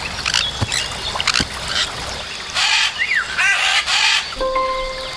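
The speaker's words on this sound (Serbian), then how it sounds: "Kakav zvuk stvara papagaj?" Several short, shrill squawks and chirps from a parrot rise and fall in pitch, loud and close, separated by brief gaps, ending on a steady whistled tone.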